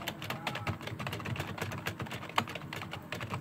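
Fast typing on a Corsair K55 RGB gaming keyboard, a dense run of soft, fairly quiet membrane key presses clattering close by in a continuous irregular patter, with one slightly sharper keystroke near the end.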